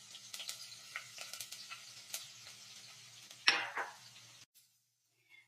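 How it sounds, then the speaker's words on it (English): Cumin seeds, garlic and ginger hiss and crackle in hot oil as a tadka is tempered for daal, with faint stirring clinks and scrapes under the sizzle before it cuts off abruptly. "Time to prepare the tadka or tempering. We'll add cumin seeds, garlic, and ginger."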